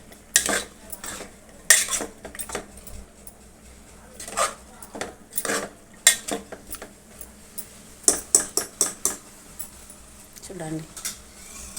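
A metal spoon scrapes and clinks against a pot while mutton is stirred with ginger-garlic paste. The knocks come in irregular bursts over a quiet simmer, with a voice speaking briefly near the end.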